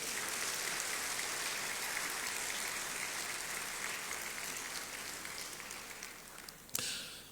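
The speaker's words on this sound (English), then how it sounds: "Shall we do a big round of applause?" Sustained applause from a crowd at a Ghanaian citizenship ceremony welcoming the diaspora, a dense, even patter of many hands clapping that holds steady and then thins out near the end, fairly distant and with no voices over it.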